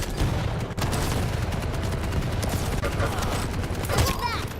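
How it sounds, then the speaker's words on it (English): A rocket launcher firing in the video game Quake Champions, set within a continuous loud barrage of explosions and gunfire that fills the whole stretch, with a voice talking over the game action. "when I shoot it with a rocket launcher"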